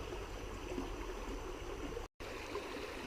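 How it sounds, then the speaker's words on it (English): Water runs through little rapids in a small creek, a steady, soft babbling and trickling close by with one brief dropout. "Well, I'm in these little rapids"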